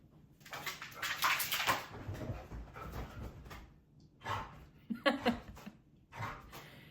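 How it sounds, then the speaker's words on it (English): A dog pants and snuffles close by in snow, with bursts of breathy huffing and rustling movement, uneven and fairly loud. "I need to let my dogs in"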